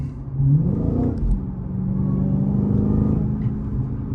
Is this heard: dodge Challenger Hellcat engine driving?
yes